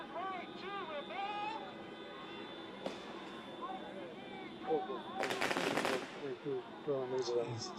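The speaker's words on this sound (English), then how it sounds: "And every time I click off of one, they start shooting" Gunfire during a Los Angeles street protest after ICE raids: a sharp isolated crack, then a dense burst of rapid shots, with radio chatter and voices continuing throughout.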